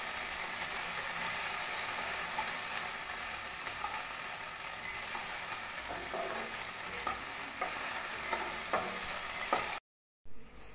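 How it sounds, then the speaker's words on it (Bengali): Small diced potatoes fry in a pan, a steady hissing sizzle with occasional scraping stirs of a spatula, ending in a brief silence then a short return of sizzling; no voice. "আলুগুলোকে একটু নেড়ে চেড়ে নিতে হবে।"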